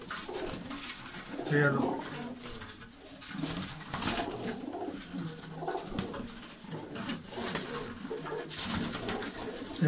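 Well-kept flying pigeons coo repeatedly in a loft, soft throaty calls rising and falling close by, mixed with someone talking and occasional brief sharp noises.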